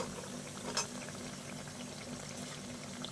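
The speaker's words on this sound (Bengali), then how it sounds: "এবং এইভাবে আমি বাকি মাছের চপগুলো সব এইভাবে ভেজে নেব।" Fish chops deep-fry in oil, giving a faint, steady bubbling hiss like a low boil with one brief brighter crackle, distant and without voices.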